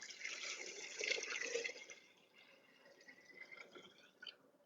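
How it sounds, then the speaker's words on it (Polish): Cooled brine poured from a vessel over beets in a jar, a soft continuous pouring trickle for about two seconds, then quieter dribbles and drips with a small splash near the end. "Zalewa nam ładnie przestygła i przelewamy."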